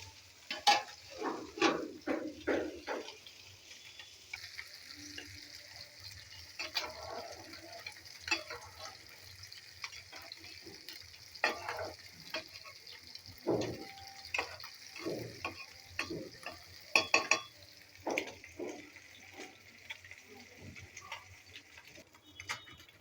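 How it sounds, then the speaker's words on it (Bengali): Tilapia fish curry simmering with eggplant and potato, with a faint, steady background sizzle broken by scattered clinks and scraping taps of stirring, fairly quiet and without speech. "এবার তেলাপিয়া মাছ দিয়ে বেগুন দিয়ে আলু দিয়ে ঝোল হচ্ছে মাছ হচ্ছে"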